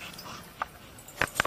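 A female game dog named Orphan Girl gives two or three brief, high whimpers close by, separated by short quiet gaps over faint background noise.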